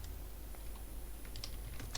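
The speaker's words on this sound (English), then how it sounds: "when I type align" Soft, quiet typing on a computer keyboard, scattered key taps clustering toward the end over a low steady background hum.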